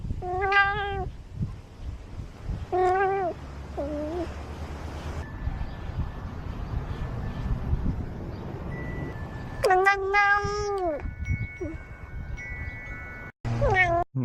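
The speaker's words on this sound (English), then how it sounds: "That's a really cute kitty." A cat meows repeatedly in several loud, drawn-out calls spread across the span, with gaps of quieter background noise between them and a brief horn-like tone near the end.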